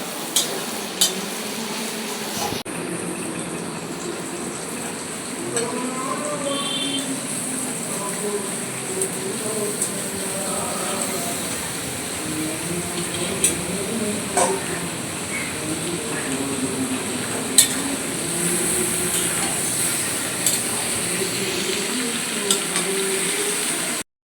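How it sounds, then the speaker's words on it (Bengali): Spice paste with chilli powder and ground coriander, for a Bengali chicken kosha, is stirred and fried in a pan, giving a steady soft sizzle with occasional scraping and clinks. It runs throughout at moderate level. "ধনিয়া গুঁড়ো দিয়ে দেবো। দিয়ে মশলাটা কষিয়ে নেবো।"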